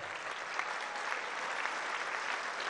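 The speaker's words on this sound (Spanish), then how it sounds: "un aplauso para Bisuet" A large outdoor crowd at a Mexican presidential public event in Xilitla, San Luis Potosí, gives sustained, even applause, a continuous hiss of many hands heard from a distance.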